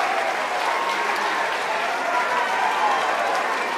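A crowd at a SpaceX Falcon 9 launch applauds steadily and loudly, dense clapping with scattered cheers blending into a continuous roar throughout.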